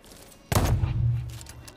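A gun fires in the video game Deathloop: after a quiet moment, a sudden loud blast with a booming low tail, followed by a few fainter sharp cracks.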